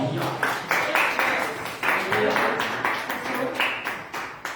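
Church congregation applauding at an afternoon blessing service, a steady wash of claps rising and falling in several waves over a few seconds, fairly close and loud.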